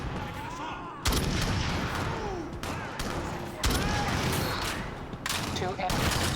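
Sniper rifle shots in the Shadowrun multiplayer game on Xbox, several loud booming cracks at irregular intervals, each with a short echoing tail, under a busy game background.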